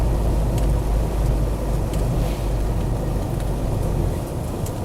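A Land Rover Defender 90 300Tdi pickup drives along a road, its diesel engine and road rumble forming a steady, loud, continuous drone with no speech.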